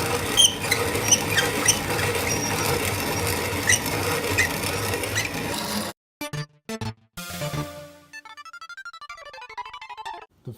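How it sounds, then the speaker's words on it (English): Cherokee white flour corn is hand ground into flour, producing a continuous gritty rasping and rubbing that stays dense and close for about six seconds before cutting off into music. "The final grind of the white flour corn, the Cherokee white flour, did require 2 hands and was very strenuous."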